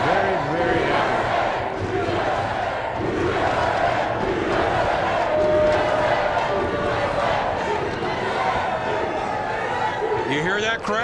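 Crowd of fans roaring and cheering at a Mosconi Cup pool match, a loud sustained wash of voices and shouts filling the arena throughout, with chatter mixed in.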